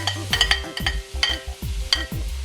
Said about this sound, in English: now I'm going to add the smoked herring to the onions, garlic and hot peppers